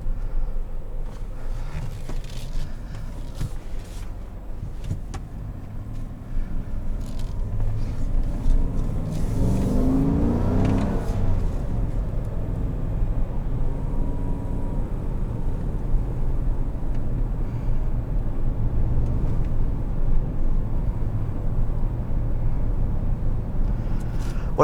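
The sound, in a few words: Chevrolet Tahoe 5.3 liter V8 driving over bumps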